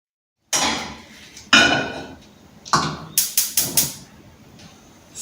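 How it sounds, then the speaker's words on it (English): Metal pan knocked and handled on a stovetop while being readied with oil for chicken fried rice: sharp clanks and taps, one heavy bang and a quick run of four clattering hits, near and alone. "the first thing you want to do is heat your pan with some oil"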